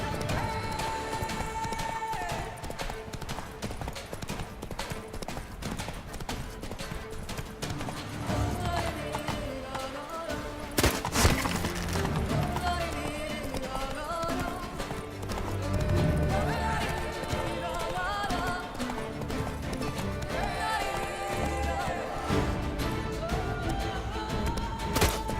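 Roach the horse gallops in The Witcher 3, with rapid rhythmic hoofbeats that pound steadily over game music, broken by a brief crash partway through.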